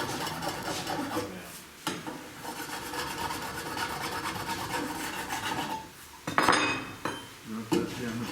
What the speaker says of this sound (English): Rub that down a bit more, like so